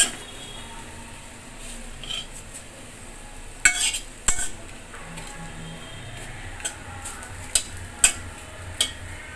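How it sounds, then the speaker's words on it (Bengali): Palm fruit fritters frying in a small amount of oil, a quiet sizzle underneath with a few sharp clicks and taps of a utensil scattered throughout, no voices. "দেখেন বন্ধুরা কম তেলে তালের বড়া, একদম কম তেলে।"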